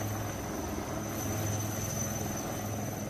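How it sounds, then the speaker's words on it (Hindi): An Indian Army rescue helicopter hovers during a flash flood rescue in Kathua, Jammu and Kashmir, its rotor and engine making a steady, loud, unbroken drone close by with no voices. "जो पायलट थे उन्होंने अपनी सूझबूझ से हेलीकॉप्टर को हवा में ही रखा, ये टच डाउन नहीं किया है"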